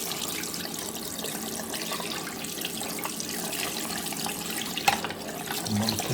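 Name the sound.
water rinsing a central heating magnetic filter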